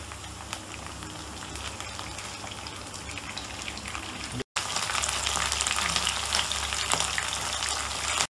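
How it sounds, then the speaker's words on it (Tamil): Dragon chicken pieces fry in hot oil with a dense, steady sizzle up close. A brief break marks the pieces being flipped, and the sizzle then returns louder and busier, with no talking. "ஒரு சைடு ஃப்ரை ஆகிடுச்சு அடுத்த சைடு நம்ம திருப்பி போட போகிறோம்"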